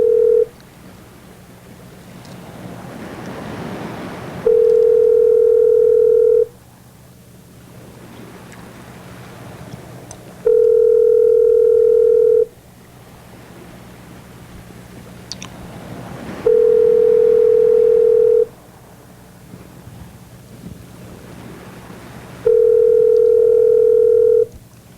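A telephone rings in regular long bursts, four steady tones spaced about six seconds apart with quiet gaps between them, heard alone without anyone talking.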